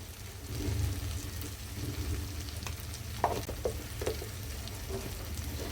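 Tomatoes and onions sauté with spices in a pan for a meal maker gravy, a steady, close sizzle and crackle running continuously with a few brief stirring clinks, no voices.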